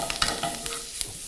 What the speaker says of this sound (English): Straight away there's a sizzle.